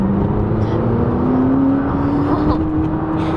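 A McLaren 570GT supercar accelerates hard, its engine note rising steadily in pitch from inside the cabin, a continuous close drone with occupants faintly audible.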